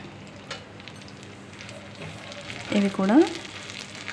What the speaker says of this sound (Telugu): 6-7 ఎండుమిరపకాయలు, 1 టీ స్పూన్ జీలకర్ర, అలాగే 1 టీ స్పూన్ ఆవాలు తీసుకొని మొత్తం ఇదే ఆయిల్లో వేసి వేయించుకోవాలి